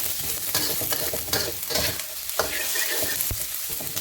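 A steady sizzle of something frying in a pan over medium heat runs throughout, close and moderately loud. A utensil stirs it, adding occasional scrapes and clicks, and there is no talking.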